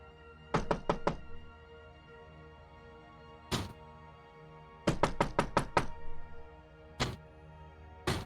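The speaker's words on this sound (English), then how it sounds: "you just hear a knocking noise coming from inside" Knocking from inside a crypt, played as a tabletop role-playing game sound effect: a quick run of four knocks, a single knock, a burst of six rapid knocks, then one more, each sharp and close.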